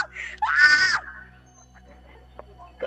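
A short, piercing scream sound effect in a horror story, a high shrill wail rising and then cutting off after about half a second, followed by quiet with faint rustles.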